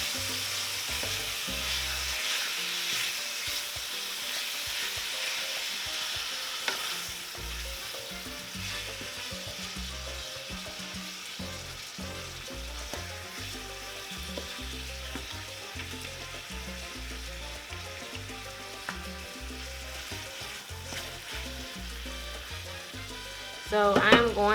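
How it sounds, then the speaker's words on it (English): Ground beef frying in a pot, a steady close sizzle and crackle running throughout with occasional scrapes of stirring, ending in a louder clatter. "So I'm going to finish cooking up my beef"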